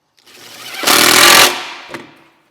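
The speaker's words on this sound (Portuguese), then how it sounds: "Já posso parafusar o lado de cá" A power screwdriver drives a screw into a cabinet during assembly, giving one loud buzzing whir of about half a second, followed by a short second burst.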